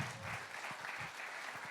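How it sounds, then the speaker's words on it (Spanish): A church congregation at Centro Cristiano Betel in Glenwood Springs, Colorado bursts into loud, sustained applause, a dense wash of many hands clapping together without a break. "le demos un fuerte aplauso a todos nuestros hermanos salvadoreños allá"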